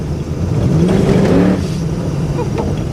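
A car with an LS V8 engine gives a short burst of throttle, a loud rising rev that peaks and then settles into a steady rumble close by.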